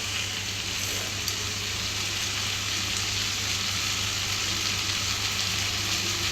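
Sliced okra sautéing in a pan for a Tamil-style poriyal, a steady continuous sizzle close by with a constant low hum underneath and no talking.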